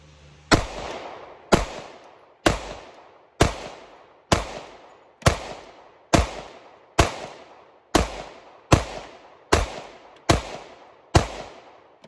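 Glock 21 SF pistol firing Underwood ammunition, thirteen sharp, loud gunshots spaced about a second apart, each with a short echoing tail, alone without talk.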